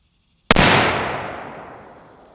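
A single sharp, loud crack from an unsuppressed .308 rifle (Savage 783) firing 150 grain AAC ammo, followed by a long echoing decay outdoors.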